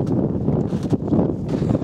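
Strong wind buffets a microphone at an outdoor radio-control model flying field in freezing conditions, a loud, rumbling roar with gusty surges and brief dips, no talk heard.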